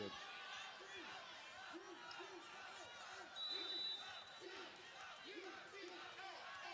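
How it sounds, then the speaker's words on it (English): Spectators at a Hawaii vs Utah women's volleyball match make a sustained crowd roar with rhythmic cheering and shouts, a commentator talking over the top and a brief whistle partway through. "Crowd's into it"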